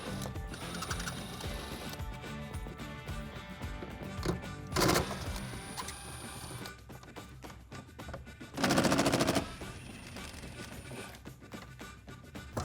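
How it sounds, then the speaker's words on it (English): A power tool with a T50 Torx socket loosens Torx bolts on the back of a Jeep Wrangler JL 2-door hardtop, giving two short loud ratcheting bursts over quieter rattling and clanking. "I'm going to be using a T50 Torx socket in order to take those off."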